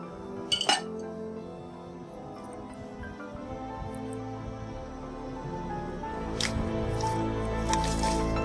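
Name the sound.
mixing creamy fruit chaat with batter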